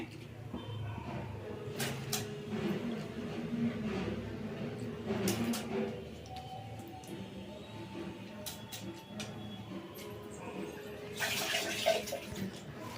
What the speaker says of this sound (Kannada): ಈಗ ಫಸ್ಟ್ ನಾನು ಕುಕ್ಕರ್ ಇಟ್ಕೊಂಡು ನೀರು ಇಟ್ಕೊಂಡಿದ್ದೀನಿ ಇದಕ್ಕೆ ನಾನು ಹೆಸರು ಬೇಳೆ ತೊಳೆದಿಟ್ಕೊಂಡಿರೋದು ಹಾಕ್ತಾಯಿದ್ದೀನಿ